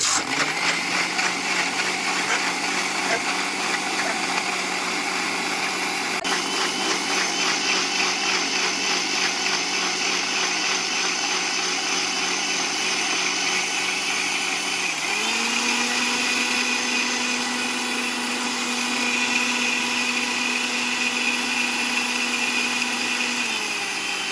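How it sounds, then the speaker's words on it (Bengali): An electric blender churns mango sherbet made with cold water, a steady loud motor whine that runs unbroken for over twenty seconds and drops to a lower, smoother pitch partway through as the mix thins out. "সুইচ দিয়ে সুন্দর করে ব্লেন্ড করে নেব।"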